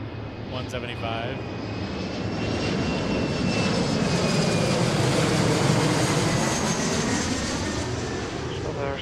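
An airliner on final approach into Seattle on a flight from Pasco, its jet engine roar swelling and holding loud and close as it passes, with a person talking over it.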